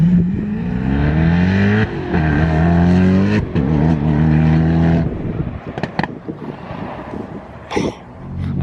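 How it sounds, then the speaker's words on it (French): Bugatti Chiron hypercar pulling out of an airport, its engine revving hard through rising pitch sweeps and sharp shifts, loud at first before the sound breaks into scattered rumbles, pops and distant engine noise. "la Chiron qui sort de l'aéroport, là c'est fini"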